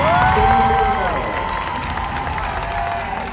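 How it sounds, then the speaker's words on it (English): Dense, loud applause and cheering from the crowd at the 2022 cheerleading world championships, continuous clapping and shouts filling the arena, with a brief whistle-like tone at the start. "can we get a round of applause for our top two teams?"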